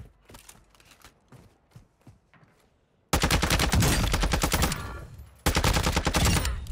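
Warzone 2 gunfire in a solo squads match: quieter scattered shots at first, then two loud, dense bursts of rapid automatic fire, close and dominant.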